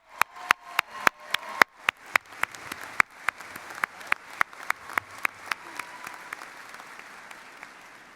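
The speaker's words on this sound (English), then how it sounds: "I want to give Danny another round of applause." Audience at a college commencement ceremony claps in a series of sharp, separate claps that start strong and fade into scattered clapping over about eight seconds, with no talking.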